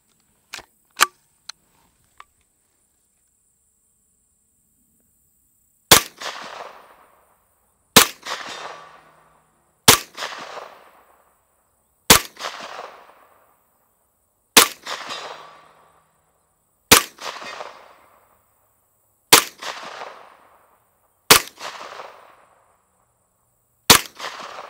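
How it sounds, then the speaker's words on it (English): A Mechtech Glock carbine fires 9mm rounds at steel targets 104 yards away: about nine loud, evenly spaced shots, each followed by a faint, fading metallic ring, after a few small clicks at the start. "Let's see if we can make some steel ring from back here with the little 9mm cartridge."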